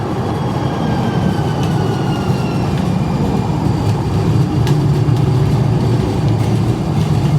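A train rumbles steadily past nearby, a dense rolling roar with faint rail squeals and clatter throughout.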